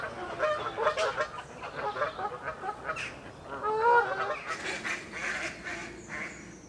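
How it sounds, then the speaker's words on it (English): Noisy Canada geese on a canal beside a village pub, honking repeatedly in overlapping bursts at moderate distance, with a few louder calls rising above a soft outdoor background. "Excuse the noisy Canada geese on the canal though."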